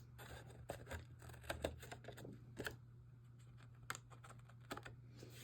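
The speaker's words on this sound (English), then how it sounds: "Now I'm just going to snip off the ends here." Scissors snip the loose ends of tape on a Christmas card embossing craft, giving a few quiet, sharp clicks scattered over a low steady hum, with no talking.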